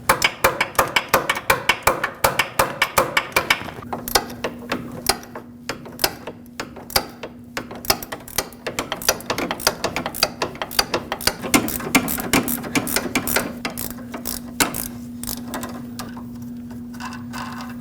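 A ratchet turns an Allen socket on a sway bar link stud of a 2006-2015 Lexus IS250, producing rapid close clicking bursts over a steady low hum, with no talking.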